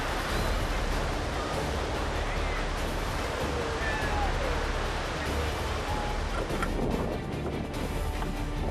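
Rough ocean surf churns loudly and steadily around a small wooden fishing boat off Mauritania, a dense broadband roar of breaking waves and water with no voices.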